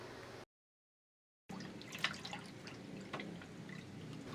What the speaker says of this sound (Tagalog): Sasalain natin ito ng 2 beses para masigurado natin na wala na siyang buo-buo.